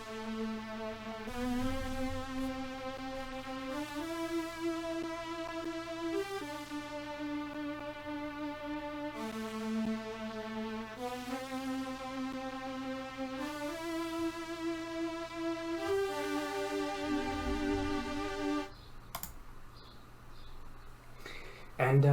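A beat's hook played on Prophet synth strings: sustained harmonic chords stepping through a repeating progression over a steady low bass, loud and continuous, ending with a short noisy tail.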